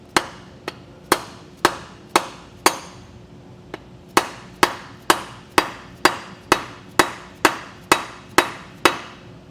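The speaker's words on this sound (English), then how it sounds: "If you take a 2x4, just slide it over top and hit square down on top of it." Hammer blows through a 2x4 onto a bearing driver seating an etrailer Easy Grease idler hub, about sixteen sharp, ringing strikes, irregular at first, then in a steady quick rhythm.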